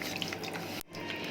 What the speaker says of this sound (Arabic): لان ما شاء الله احنا هنحط كميه ميه كبيره